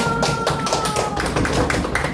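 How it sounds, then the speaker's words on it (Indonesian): A class of students claps together in a classroom, a continuous rapid patter of many hands over a loud, dense background. "Tepuk tangan dulu."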